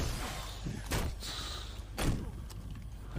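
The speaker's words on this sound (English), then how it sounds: "Someone's knocking on the door." Two or three dull knocks on a door inside the Halo 5 video game, heavy thuds spaced about a second apart, with light background hiss.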